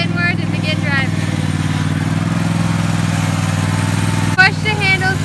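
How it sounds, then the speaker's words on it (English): A riding lawn mower's engine runs steadily with a low droning hum, started with the choke pulled out. Voices speak over it in short phrases near the start and end. "Pull out the choke and start the engine."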